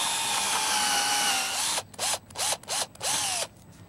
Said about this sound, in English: So I've already measured and marked the positions of where I want to drill.